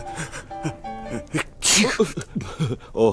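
A sneeze bursts out loud and close in a Finnish family story, set among speech before and after it.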